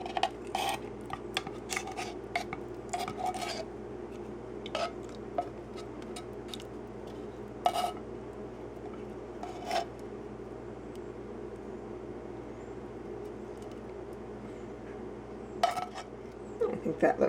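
Spoon scraping condensed cream of cheddar soup out of a metal can in a kitchen, a series of quick metallic scrapes and clinks in bursts over a steady low hum.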